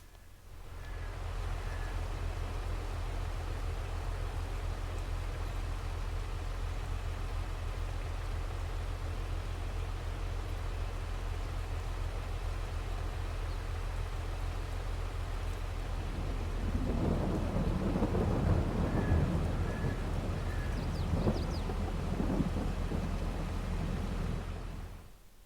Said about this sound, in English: a thunderstorm has just rolled through and put a halt to our current work